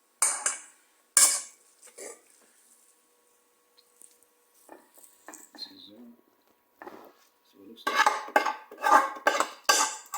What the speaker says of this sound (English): So we're stirring it. We use a pestle.